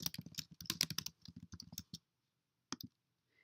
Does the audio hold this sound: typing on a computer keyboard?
yes